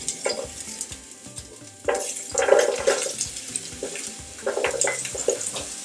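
Chopped onions tip into a hot pan for chicken macaroni and start frying, a steady sizzle with scraping and stirring clatter that swells louder partway through.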